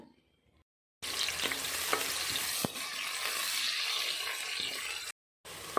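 Onions and masala fry in hot oil for a nati-style chicken biryani while being stirred, giving a loud, close, continuous sizzle with a few sharp scrapes, framed by short silent gaps.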